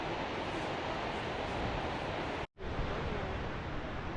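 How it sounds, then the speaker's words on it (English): Gullfoss waterfall in Iceland sends out a continuous broadband roar of rushing water, steady and loud with a momentary dropout partway through. "Here we are at Gullfoss, the Golden Waterfall."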